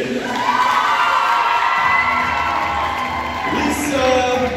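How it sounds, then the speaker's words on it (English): A crowd cheers and whoops to welcome returning alumni at an evening event, with shouts and high voices rising over a loud, continuous crowd noise and a few claps in the mix. "Please join me in welcoming our alumni tonight with a hearty round of applause"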